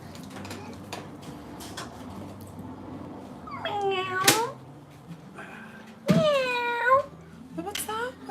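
A house cat meows twice, long rising-and-falling calls close by, in a quiet indoor room with faint background noise.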